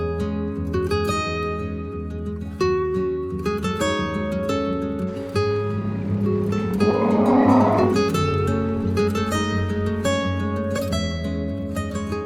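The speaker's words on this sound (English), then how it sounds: "Namibian cattle." Namibian cattle grazing near the Chobe River moo in long, low, drawn-out calls that overlap one another, fairly close and clear.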